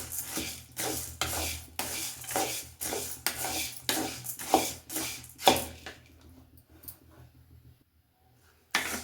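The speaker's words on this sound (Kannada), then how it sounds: "ಈ ರೀತಿ ಇದರಲ್ಲೇ ಹಾಕ್ಕೊಂಡು ಹುರ್ ಹುರ್ಕೊಳ್ಳೋದು ಒಳ್ಳೆಯದು" Barley and almonds being dry-roasted and stirred in a pan at home for barley malt, with a steady rhythmic scraping of a spatula against the pan that eases off and goes quiet near the end, then one sharp knock.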